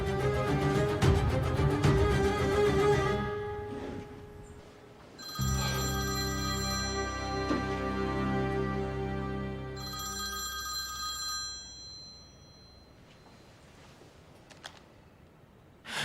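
A telephone bell rings in repeated bursts with pauses between them, loud and close, with no voices over it.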